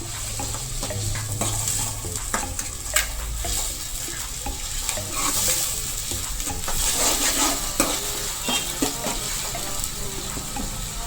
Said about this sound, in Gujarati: કાંદાની પેસ્ટને ગોલ્ડન બ્રાઉન કલર થવા દેશું